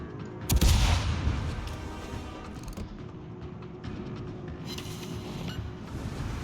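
Warship gunfire in the naval video game World of Warships: a booming salvo near the start, then rumbling distant shots and battle noise continuing under the scene, with no voices.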